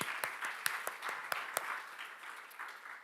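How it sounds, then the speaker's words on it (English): Audience hand clapping at a social media convention, a fairly quiet, distant round of applause with a few crisp individual claps standing out early before the clapping thins and fades. "let's give them a hand clap"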